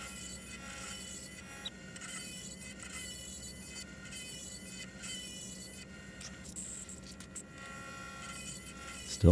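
Hand tools scrape and hollow out a wooden mug on a lathe, including a bowl scraper. The rasping and rubbing run continuously and close up over the lathe's hum, with a small knock near the end.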